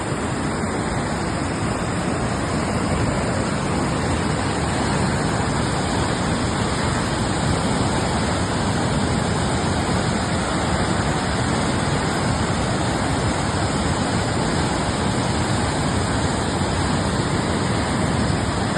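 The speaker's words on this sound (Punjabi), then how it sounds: "2 ਦਿਨਾਂ ਤੋਂ ਪਾਣੀ ਹੈ ਜਿਹੜਾ ਉਹ 2 ਫੁੱਟ ਘੱਗਰ ਦੇ ਵਿੱਚ ਚੱਲ ਰਿਹਾ ਹੈ" Floodwater about two feet deep flows along the Ghaggar river in Punjab as a loud, unbroken broadband rush that holds steady for nearly nineteen seconds with no voices.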